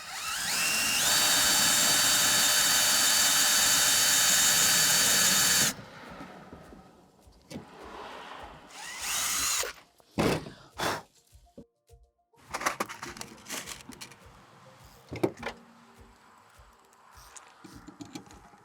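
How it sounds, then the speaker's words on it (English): A power drill countersinks holes for top-mount posts on an aluminum handrail, starting with a loud, steady whine for about five seconds, then giving way to short, scattered bursts and handling clatter. "Now we're going to countersink for our next piece."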